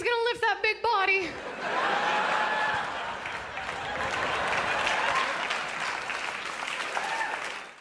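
A comedy audience bursts into applause after a joke, a sustained wash of clapping with a few chuckles mixed in, following a brief stretch of a voice speaking at the start.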